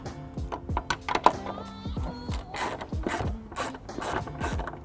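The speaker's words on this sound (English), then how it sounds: "Next, I'll be using my 10mm to remove the nut off of the tail light." A 10mm ratchet loosens a nut on the tail light of a 2015 BMW X1, giving close, rapid clicking in quick strokes with light rubbing and handling noise.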